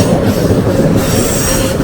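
ICE3 high-speed train passing at the Hackerbrücke in Munich, a loud continuous rush of wheels and rail noise with a high squealing edge, close and steady throughout with no talking.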